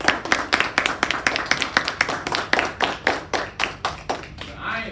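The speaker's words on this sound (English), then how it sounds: "Can we give them a round of applause?" Parents in a school classroom audience give a round of applause, a run of distinct, fairly close hand claps in an uneven rhythm that slows and fades toward the end.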